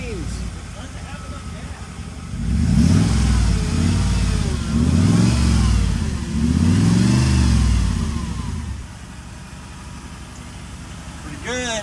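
An Audi RS5 engine revs hard through several rising and falling sweeps while accelerating, loud and close, then settles back to a lower hum, with people talking over it.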